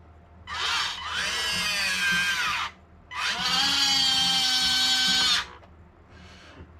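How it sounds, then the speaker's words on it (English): Turret motor of a Huina 1583 RC excavator whining loudly in two sustained bursts of a few seconds each, a high, buzzy electric drone up close, with a brief softer spin at the end. "That turner motor is super loud."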